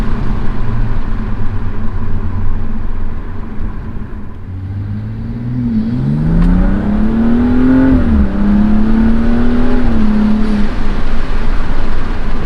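A BMW M235i in race mode accelerates hard. Its engine note dips briefly, then climbs and rises in pitch through the revs, loud and close, with a sustained growl and no one talking.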